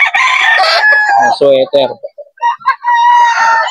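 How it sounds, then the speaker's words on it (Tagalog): Young roosters, about seven months old, crow loudly and close by at the Bocaue pet market, one long harmonic crow with clucks and short calls after, while people talk over it. "Ay, mga manok ni Boss Rod."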